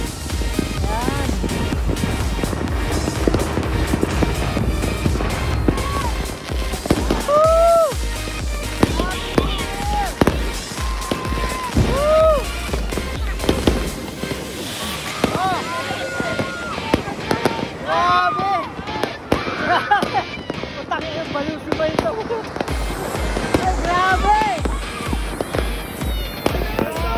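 New Year fireworks burst all around a roof deck, with loud near cracks and booms mixed with farther pops and whistling rockets in an irregular barrage, while people talk nearby.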